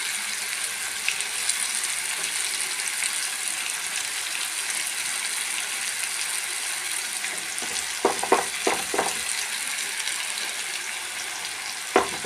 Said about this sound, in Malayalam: മുളക് പുരട്ടിയ വഴുതനങ്ങ വറുക്കാനായിട്ട് ഞാൻ പാൻ വെച്ചിട്ടുണ്ട്